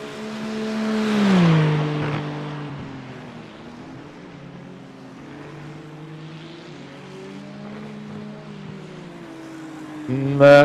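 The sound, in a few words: race car engine in iRacing video game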